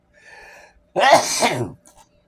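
A single forceful sneeze, preceded by a brief faint tone and followed by a soft sniff.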